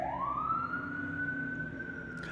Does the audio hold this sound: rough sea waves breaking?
no